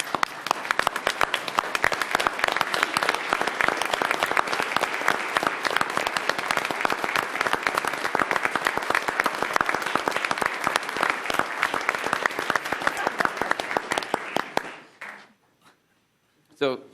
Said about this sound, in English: let's stand and give the Chief a round of applause.